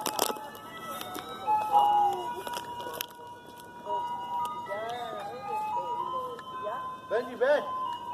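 An ice cream truck's tinkling music-box jingle plays steadily as the truck drives off, fading a little, with a person speaking nearby, wind and handling noise over it.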